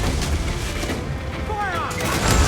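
Booming naval cannon fire from a ship battle in Assassin's Creed IV Black Flag, a dense, loud rumble of blasts with crew shouts mixed in and swelling toward the end.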